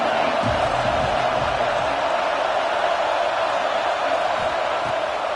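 Steady, dense roar of a football stadium crowd at a college game, loud and continuous throughout with no break, a broad wash of massed voices.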